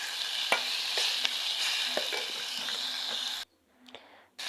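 Onions and tomatoes with paste sauté in oil in a sufuria for cooked cowpea leaves, an even close sizzle with irregular spoon clicks, then a sudden near-silence broken by a faint tap before the frying returns.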